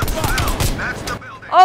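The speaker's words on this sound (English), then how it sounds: "let's shoot this guy with the pistol" Rapid pistol gunshots in the video game Call of Duty: Black Ops Cold War, several sharp reports in quick succession up close and loud, mixed with in-game voices and shouting.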